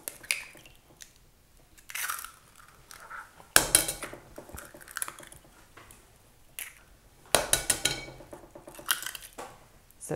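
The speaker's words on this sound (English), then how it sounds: "I have 3 eggs and I'm going to crack them in my bowl." Three eggs cracked one by one into a bowl, heard as a few sharp, close taps and cracks with small shell and liquid sounds between them. No one speaks.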